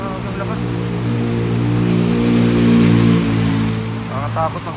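A motorcycle engine revs with a steady, loud harmonic drone in heavy typhoon rain and flooding in Baguio, swelling in the middle, while a voice speaks near the end.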